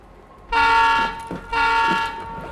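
A train in the video game Escape from Tarkov sounds two loud, long horn blasts close by, separated by a short gap, over a low rumble of the moving train.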